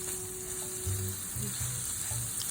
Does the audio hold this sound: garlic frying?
yes